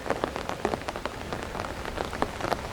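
Rain falls steadily on a pond and garden path at St James Gardens by the Humber River in Toronto, a dense close patter of drops with sharper individual splashes and no talking.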